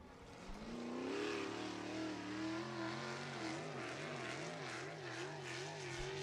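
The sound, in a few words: sprint race cars circling the Ocala Speedway track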